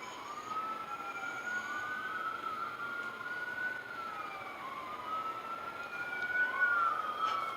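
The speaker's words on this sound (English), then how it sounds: "Those sirens are the Goonie police" Police sirens wail continuously at a distance, their tones sweeping up and down in overlapping cycles over a low steady background of street noise.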